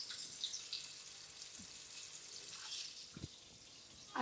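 Prawns sizzle faintly in hot oil, a soft, steady hiss and crackle with a few small pops and no one speaking.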